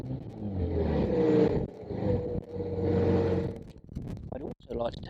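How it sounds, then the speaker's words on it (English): A 2004 MG ZT 2.5 V6 190 revs in repeated rising and falling surges, close and fairly loud, with someone talking over the engine. "Revs really cleanly, very responsive. A lovely sound."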